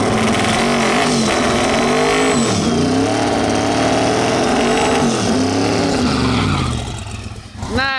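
A drag race car nicknamed Leroy, set up with more boost and tighter shocks, roars through a loud burnout, its engine note rising and falling in sustained harmonic sweeps for several seconds before cutting off sharply near the end.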